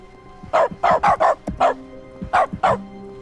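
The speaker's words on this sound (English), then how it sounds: "my keystrokes have been replaced with dogs barking" Dog barks stand in for keystrokes in the video game The Stanley Parable: a rapid series of sharp, close barks and yips in short bursts, with brief pauses between groups.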